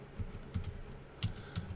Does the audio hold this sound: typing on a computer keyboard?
yes